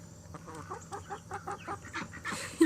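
Chickens cluck in a series of soft, close, repeated calls in a backyard flock among ducks and turkeys, ending with a slightly louder note.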